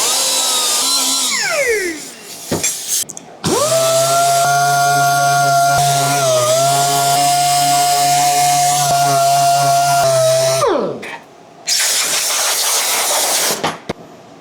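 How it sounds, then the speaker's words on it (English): A pneumatic dual-action sander finishing welded jack pads for a trailing arm, running loud and close with a steady high whine that winds up, holds for several seconds and spins down, plus shorter bursts before and after. "And then I'm going to final it out with a DA sander."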